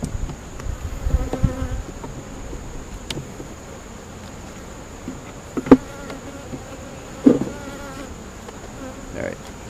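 Honeybees buzz steadily around a hive box in the open, a soft continuous drone with a few louder passes as single bees fly close to the listener.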